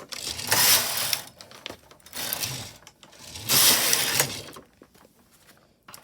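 A knitting machine carriage is pushed across a row of garter stitch, two long rattling, whirring mechanical passes with clicks between, loud and close, with no talk.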